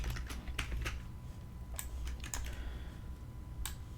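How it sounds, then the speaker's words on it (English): Fingers type on a computer keyboard, a close run of quick, uneven clicking keystrokes over a low steady hum, with no voices. "Yeah, typing shit."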